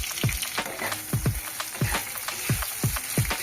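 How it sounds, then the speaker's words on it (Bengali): Chopped onions with chopped spring onion stems frying lightly in a pan, with a steady close sizzle and a few repeated soft scrapes or taps as the pan is worked, no voices. "পেঁয়াজটা একটু হালকা ভেজে নেবে।"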